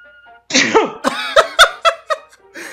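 A cartoon character from a 1936 Terrytoons short lets out a wheezing, pitch-bending sneeze, followed by a rhythmic series of sharp, voiced bursts over a musical soundtrack.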